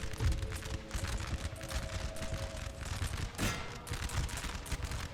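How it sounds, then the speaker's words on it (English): Massed musket volleys crackle continuously in a Napoleonic battle from the Napoleon Total War video game, a dense, loud rolling fusillade of overlapping gunshots with no clear gaps. "I'm letting all the muskets continue to fire"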